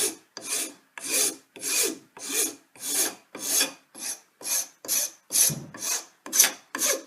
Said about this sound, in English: I'm just going to use a regular old metal file on this, and it's a fairly coarse cut